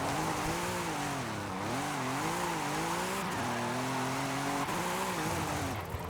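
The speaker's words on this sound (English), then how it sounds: "this is the worst sounding car I've ever heard in my entire life" A car engine in Forza Horizon 5, fitted with snow tires, drones with a harsh, buzzy, fake-sounding tone that rises and falls steadily through revs and shifts for several seconds, loud and continuous with no talk over it.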